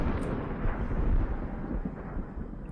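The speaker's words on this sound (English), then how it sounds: "Okay, no, that's definitely a thunderstorm." Low, rumbling thunder from a storm in the video game SOMA, a deep rolling boom that swells and fades over a couple of seconds, fairly loud with no talk.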